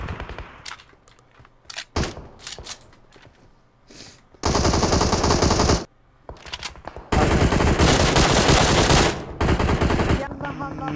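Gunfire in the PUBG Mobile battle royale game: scattered single shots and short bursts give way to long, loud sustained automatic volleys. Faint voices are heard between the firing.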